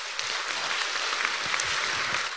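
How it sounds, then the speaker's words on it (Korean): Steady applause from an audience at a Buddhist Q&A talk session, a dense continuous patter of many hands clapping at moderate volume with no voices on top. "우리 경례 박수 한번 부탁드립니다."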